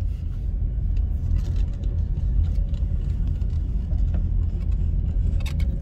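A car drives slowly around the historic town of Port Royal, a low steady engine and road rumble from inside the cabin with faint rattles and clicks, no voices.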